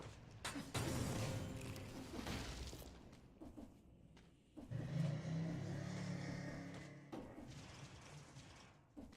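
A truck passing outside, a loud broadband engine rumble that swells, fades around the middle, then surges again and holds steady with low drone for several seconds.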